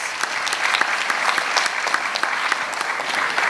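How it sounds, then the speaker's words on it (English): An audience applauds the paper presenters at a knowledge session, with steady, sustained clapping from many hands that stays fairly loud throughout. "Please give a big round of applause to all our presenters"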